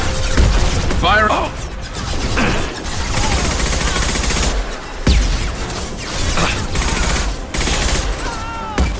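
Rapid bursts of gunfire from the video game Mass Effect 2 crackle loudly and almost without pause, with heavy impacts and booms mixed in and voices calling out over the combat.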